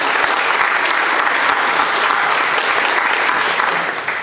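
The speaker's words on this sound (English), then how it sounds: "let's give them a round of applause" Loud, sustained applause from a large audience, a dense steady wash of clapping that holds throughout and eases slightly at the end.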